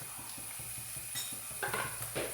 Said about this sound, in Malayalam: അരിഞ്ഞു വെച്ചിരിക്കുന്ന പച്ചക്കറികൾ ഇട്ട് കൊടുക്കാം.